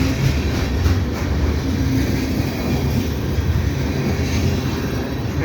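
A CN freight train passing in winter near Dorval station, a loud, steady rumble with the roar of wagons rolling by close at hand throughout.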